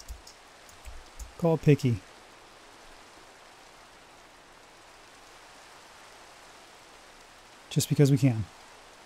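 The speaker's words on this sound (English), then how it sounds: "And it's raining." Rain falls in Minecraft as a steady, soft hiss that runs under the whole stretch, with someone speaking briefly near the start and again near the end.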